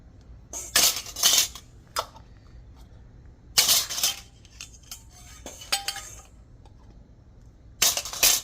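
A metal canning lid lifted with a magnet and set onto a glass jar, making several close metallic clinks and clatters in separate bursts with quieter handling between them.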